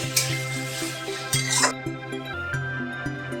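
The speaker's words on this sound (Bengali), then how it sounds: "এবার আলুটা নিয়ে আলুটা কষিয়ে নেব।" Thinly sliced potatoes sauté in a hot pan with a soft sizzle, while a metal spatula stirs and scrapes in a steady run of clinks and knocks, close and fairly loud.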